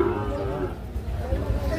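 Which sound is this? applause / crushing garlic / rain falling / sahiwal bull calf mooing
sahiwal bull calf mooing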